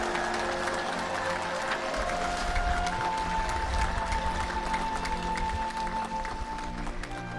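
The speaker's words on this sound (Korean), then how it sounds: "큰 박수로 맞아주시기 바랍니다." Sustained applause from an audience at a memorial ceremony for a former president, steady and dense throughout, with a faint tonal hum in the background.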